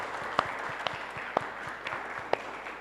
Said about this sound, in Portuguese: Palmas para o grupo da direita.